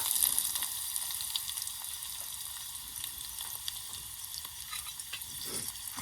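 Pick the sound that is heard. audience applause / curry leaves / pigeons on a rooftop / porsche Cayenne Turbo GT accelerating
curry leaves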